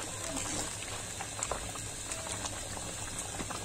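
Mutton stew bubbling steadily in a pot, a soft continuous simmer with faint pops and small bursts throughout, close and moderately quiet, no talking.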